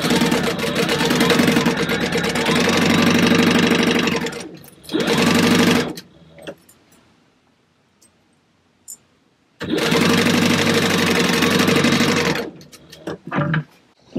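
A sewing machine stitches clear vinyl lining for a book bag in loud, fast, steady runs of needle chatter: a long burst, a short one, a quiet pause with faint handling, then another long stitching run.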